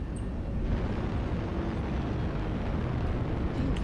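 A dropship arrives in a sci-fi shooter video game with a sustained roaring engine rumble. The rumble stays loud and even, with brief metallic clanks near the start and end.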